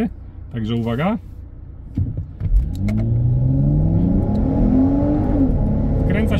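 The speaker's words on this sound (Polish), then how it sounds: "Wkręca się do 6000 obrotów. Już mamy stówkę na liczniku." Volvo V60 T6 Polestar with a 3.0-litre turbo straight-six, 350 hp, pulling hard from standstill on a 0–100 km/h run, its engine note climbing steadily toward 6000 rpm, loud and close, after a brief spoken remark.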